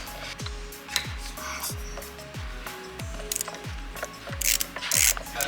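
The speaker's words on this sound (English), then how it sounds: "So as you undo these bolts" A ratchet loosening bolts on the cam follower housing of a 2.0T FSI EA113 engine, which sits in an aluminum housing. Nine or ten quick ratcheting clicks repeat at a steady rhythm, up close, with no speech.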